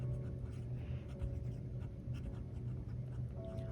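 A Radius Settimo fountain pen in Marmo Bianco with a fine nib, inked with J. Herbin ink, scratches faintly and steadily across paper in a soft continuous texture with no talking.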